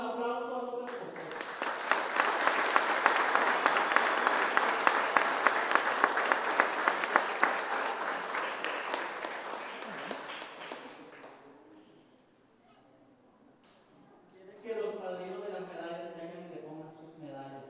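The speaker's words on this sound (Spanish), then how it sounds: "Le damos un aplauso a los esposos." Wedding guests at a church ceremony applaud the newlyweds, a dense, loud burst of clapping that builds quickly, holds steady for several seconds, then fades out before voices and a brief lift of sound return.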